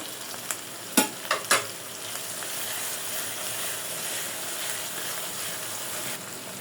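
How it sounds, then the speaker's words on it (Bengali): Spice paste for mutton being fried and stirred in a pan: a steady sizzle underneath a few sharp scraping stirs early on, then continuous frying noise. "ভালোভাবে মশলাটা ধৈর্য ধরে কষাইতে হবে"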